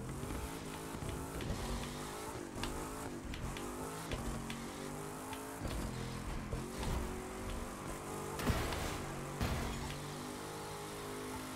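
A car accelerates in the racing game The Crew 2, its engine revving through repeated gear shifts with rising and falling pitch, loud and continuous.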